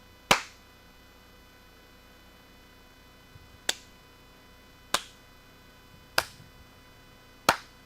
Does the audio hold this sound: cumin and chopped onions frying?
no